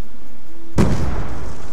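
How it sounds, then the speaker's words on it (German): A single loud blast rings out in Call of Duty: Black Ops 2 Zombies on the farm map, a sudden explosion with a booming burst that decays into a rumbling tail. "Der explodiert gleich."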